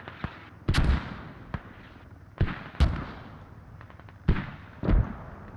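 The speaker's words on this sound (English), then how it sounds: "So, we're making good use of mortars." Mortar fire in the video game Squad during a MilSim event: a series of sharp, booming blasts arriving in pairs, roughly every one to two seconds, loud and close, with fainter echoes and distant battle rumble between them.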